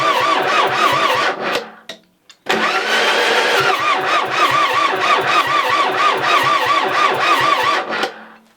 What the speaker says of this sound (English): First ever run of an engine that's been sitting probably for many years.